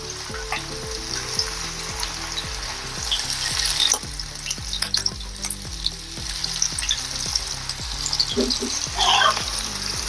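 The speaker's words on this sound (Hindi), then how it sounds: "अभी हम इसको तलेंगे, तो तलने के लिए मैंने तेल गरम करने के लिए रखा है। इसमें डाल देंगे अपनी भिंडी।" Okra (bhindi) fries in hot oil with a dense, continuous crackling sizzle, joined by steady rhythmic thumps and occasional sharper clinks.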